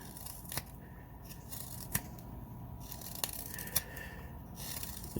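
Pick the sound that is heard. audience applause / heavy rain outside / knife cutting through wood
knife cutting through wood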